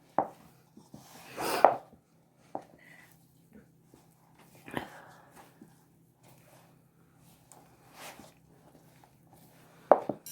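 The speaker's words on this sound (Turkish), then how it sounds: "Hamur kabımız da güzel ses çıkarıyor tıkır tıkır" Dough bowl clattering and clicking while bread dough is kneaded by hand, scattered light knocks and taps spread unevenly, quiet and close, with a faint steady hum beneath.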